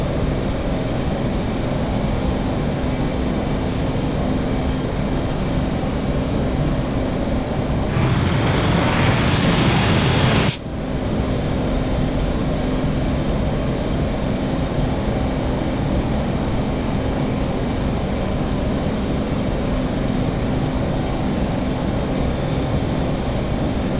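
A fighter jet engine roars at full afterburner in a flight sim game, a steady, loud broadband rumble that carries throughout, with one brief burst of louder hiss partway through.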